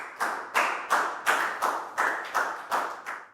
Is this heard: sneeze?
no